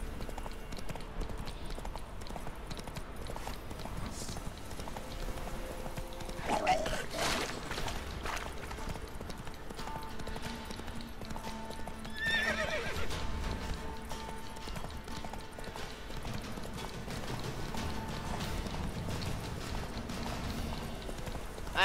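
Roach, Geralt's horse in The Witcher 3, gallops with steady hoofbeats under continuous game music and ambience, a brief louder rush of movement midway.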